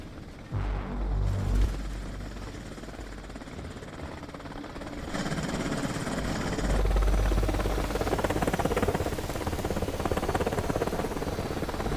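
A helicopter's rotor thump and engine roar rumble steadily throughout, growing louder and denser toward the end, with low booming underneath.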